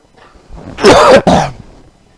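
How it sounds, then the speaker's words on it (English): A single loud, harsh cough bursts out in two quick chunks, close up, against near silence. "You're making me cough."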